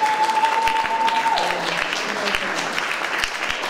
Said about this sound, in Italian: Un altro applauso ancora